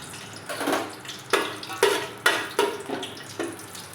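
Bay leaf dropped into hot mixed ghee and white oil crackles and sizzles in a pan, with several short bursts of frying noise and utensil clinks close by.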